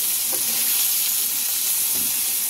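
A fish head frying in hot oil in a pan while cabbage ghonto is cooked, giving a steady, even sizzle and hiss throughout with faint stirring or shifting sounds.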